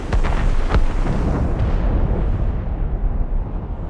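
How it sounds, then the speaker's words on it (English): Cannon fire booming deep within the fog in Assassin's Creed Rogue: a few heavy, rumbling blasts early on that roll into a long, dense low rumble fading out, loud and without speech. "Cannon fire. Deep within the fog."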